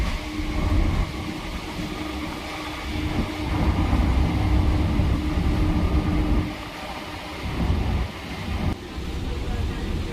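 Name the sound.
moving local passenger train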